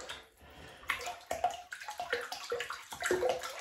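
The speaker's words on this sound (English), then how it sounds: "So we'll wet the brush" Tap water runs and splashes onto a shaving brush as it is wetted, giving an irregular, close-up spattering with uneven bursts and no talking.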